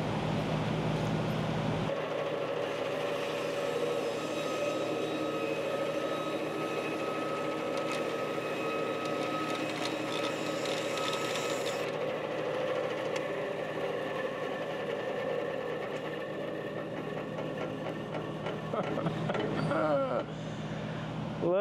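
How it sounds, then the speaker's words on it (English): A bandsaw cuts through a sample of truck bed liner, a steady close mechanical whir and rasp running almost unbroken throughout with little variation. "Take the sample size and cut it with a bandsaw."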